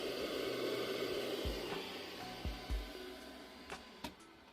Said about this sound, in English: I have turned on the heating dryer and you can hear it as we speak.